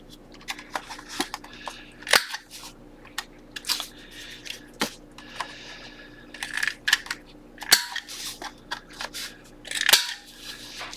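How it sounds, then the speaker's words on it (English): Corner rounder punch clipping the corners of paper for a handmade book holding seven signatures, producing a series of sharp snapping clicks at irregular intervals, some louder and close, over quiet background rustling. "I'm going to round these corners, I do think, as well."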